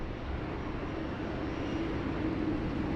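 A Qantas Boeing 787 Dreamliner lines up on runway 16 right at Sydney Airport, giving a steady, distant jet engine rumble with no other sounds over it.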